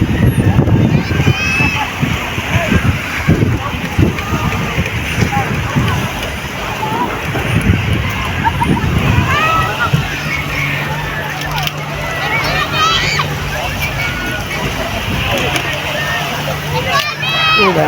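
People splash and wade in shallow water while a crowd chatters and shouts nearby, with irregular sloshing and splatter mixed into a busy, lively hubbub.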